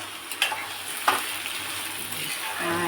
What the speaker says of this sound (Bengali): এখানে আলুটা ভাজা চলছে